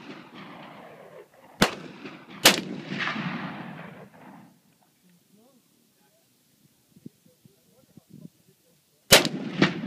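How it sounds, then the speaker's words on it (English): A 12 gauge 3.5 inch magnum shotgun fired at a propane tank outdoors: two loud, sharp blasts about a second apart, each with a rolling echo, then quiet before a third blast, with people talking between shots. "Shooting at the propane tank."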